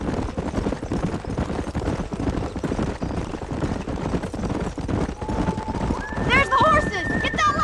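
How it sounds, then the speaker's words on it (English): Horses galloping in the Red Dead Redemption video game, a rapid clip-clop of hooves under steady game sound, with a tonal music line rising near the end. "There's the horses!"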